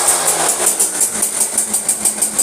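Restored Yamaha V80 motorcycle engine cranked on its electric starter, a loud, close, rapid pulsing whir repeating evenly for a couple of seconds.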